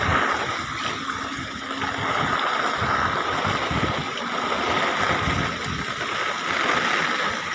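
Floodwater fills a hall at Narayan Ashram and covers the steps of a staircase, giving a steady, even rushing and gurgling wash that carries on without a break.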